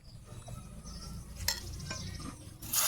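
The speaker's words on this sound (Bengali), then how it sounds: "আরও তেল দিয়ে দিছি ভাজা উঠামু" Leaf fritters frying in oil in a pan give a steady low sizzle with occasional stirring clinks, growing louder near the end.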